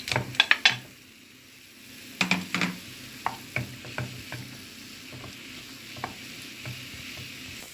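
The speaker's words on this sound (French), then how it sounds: "nous allons commencer par 30 g de beurre, nous allons le faire fondre" Butter melts in a pan with a quiet, soft sizzle beneath a cluster of utensil clinks and taps near the start, followed by scattered light stirring knocks.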